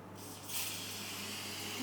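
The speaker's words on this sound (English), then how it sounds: "all I'm going to do is spray a little bit of olive oil" Olive oil spritzed from a spray bottle onto tofu pieces before air-frying, a steady soft hiss that continues throughout at low volume.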